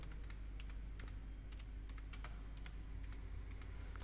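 Someone types steadily on a computer keyboard while entering data into Tally accounting software, with quick, faint key clicks over a low constant hum. No one talks.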